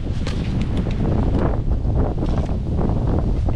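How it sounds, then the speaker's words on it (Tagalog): Strong wind buffeting the microphone on a sandy beach, a loud, continuous roar with gusting rumble and no voices. "Sobrang lakas ang hangin."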